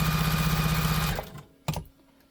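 A sewing machine stitches a tote bag in a fast, close, steady whir of needle strokes for about a second, then stops, leaving a short handling clatter.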